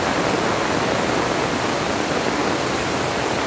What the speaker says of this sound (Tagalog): So, ganyan yung ilog niya.